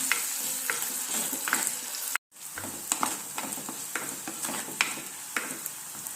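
Shallots and curry leaves are sautéed on a medium flame, giving a continuous crackling sizzle with regular spatula scrapes. The sound cuts out for a split second partway through, then resumes.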